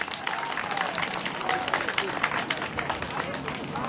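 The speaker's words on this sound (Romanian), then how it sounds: "Să-i aplaudăm!" Audience applause for a children's choir taking the stage at a music festival, a steady wash of clapping from a crowd with faint background chatter, moderately distant.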